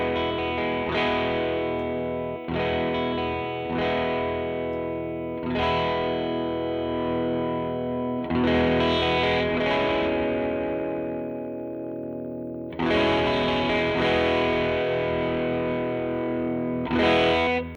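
Electric guitar played through a Ground Control Audio overdrive pedal, loud gritty distorted chords struck in separate bursts with pauses between them, heard alone without talking.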